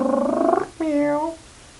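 A cat meows twice close up: a long, steady, harmonic call, a short pause, then a second meow that rises and falls before fading. Purring is not clearly heard.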